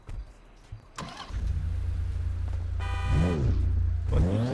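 Car engine in GTA roleplay starting with a click and crank, then a loud steady low idle that swells into two rising revs near the end, with a short high horn-like tone in between.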